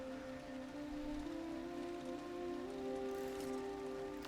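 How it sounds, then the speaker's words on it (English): Rain in the video game Cairn, a faint even patter of drops continuing under sustained tonal music, with no voices. "And also get rid of this rain in the process"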